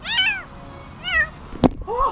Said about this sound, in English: DeBacker from Long Island Cat Kitten Rescue used skill, patience, a can of cat food, and great reflexes to help a kitten in need